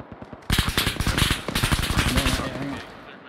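A vehicle-mounted machine gun in a milsim multiplayer game fires a rapid burst of close, sharp shots, with a player's voice heard near the end.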